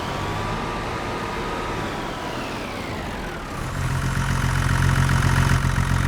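A John Deere tractor engine in Farming Simulator 25 idles with a steady, even hum, then swells louder and deeper about halfway through as the revs climb and hold.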